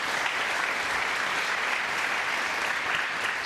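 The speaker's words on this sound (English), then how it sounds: "Sportingly applauded by" Applause for a shot in a snooker semi-final between Ricky Walden and Barry Hawkins, a steady, even patter of clapping from the arena crowd, sustained and fairly close.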